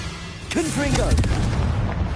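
A Confringo fire spell goes off in Hogwarts Legacy on PS5, giving a few sharp booming blasts in quick succession as a voice talks over the opening.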